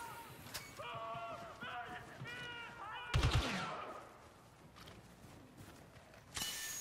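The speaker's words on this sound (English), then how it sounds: "Who are you shooting at?" Gunfire and blaster shots from Star Wars Battlefront II, a sharp loud burst in the middle of the clip amid scattered in-game combat noise and voices talking.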